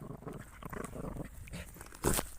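Earth dogs hunt rats in a deep underground burrow, giving off muffled snuffling, panting and scrabbling with a louder burst near the end, close and low.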